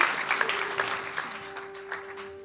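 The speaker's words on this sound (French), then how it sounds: "on peut l'applaudir et on peut applaudir tous les baptisés." A congregation applauds at a church baptism celebration, a lively burst of clapping close by that gradually thins out, with a sustained organ-like tone running underneath.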